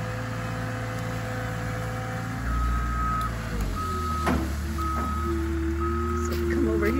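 At a tree-clearing site, a working loader's engine drones low and steady while intermittent reversing beeps sound at moderate distance. A person talks now and then over the machinery.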